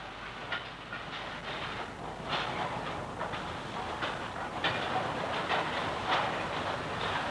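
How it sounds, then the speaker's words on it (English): Narrow gauge mixed train hauling passenger carriages, wagons loaded with rolls of newsprint and empty wagons rolls past on a British railway byway, a steady rumble of wheels with rhythmic clicks over rail joints, fairly loud and continuous. "A mixed train conveying passenger carriages, wagons carrying rolls of newsprint and empty wagons is seen here."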